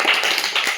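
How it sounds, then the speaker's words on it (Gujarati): A small group claps briefly for the winner of a matchstick-lighting challenge, a short burst of quick, close hand claps lasting under a second. "તાળીઓ બજાવો ભાઈ"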